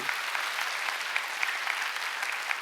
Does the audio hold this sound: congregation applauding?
yes